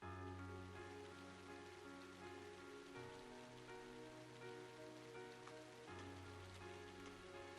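Steady rainfall from Trails of Cold Steel patters softly and continuously beneath a sustained, layered game music track, faint and even throughout.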